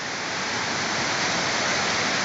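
Water rushes across a trail in Itaguaí, a steady, dense hiss of running water that stays close and continuous, with no voices over it.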